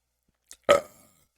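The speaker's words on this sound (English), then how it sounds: "That's part of the burp right there." A single short, throaty burp rings out clearly after a tiny preceding click, then fades quickly into silence.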